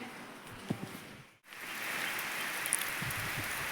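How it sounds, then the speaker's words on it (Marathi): Soft patter of rain on a surface, briefly dipping after a light thump, then resuming as a steady, slightly louder hiss. "पाऊस आलाय ना"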